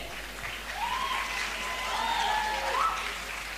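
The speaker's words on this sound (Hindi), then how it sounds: "आपकी तालियां।" A live show audience claps steadily for a few seconds, a dense even patter with a faint whistle or cheer rising over it.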